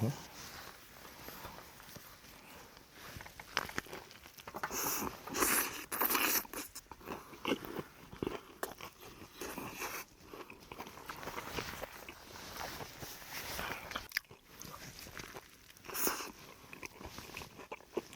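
Crunchy bites and chewing on a crispy chicken burger with a whole chicken leg patty, close and intermittent, mixed with rustling and a voice talking in between.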